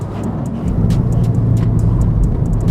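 Subaru Impreza WRX STI Type R V-Limited engine pulling hard while accelerating, a loud, steady, close-up roar that builds slightly.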